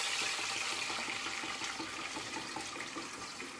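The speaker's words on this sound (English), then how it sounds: "I'm adding water." Water rushes from a tap into a Thermomix holding bones and a little vinegar for bone broth, a continuous close splashing pour that gradually eases.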